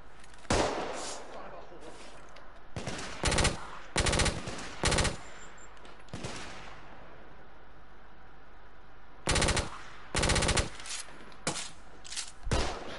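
Gunfire in the video game The Order: 1886 comes in sharp bursts of automatic fire and single loud shots, spaced across the stretch with quieter gaps of ambient noise between volleys.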